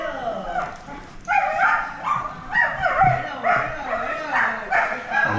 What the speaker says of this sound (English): And a very excited dog on this side of the road.